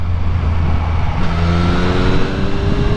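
Triumph Street Triple RS motorcycle rolling on in sixth gear, a steady close engine note with pitch climbing gradually over a few seconds under wind.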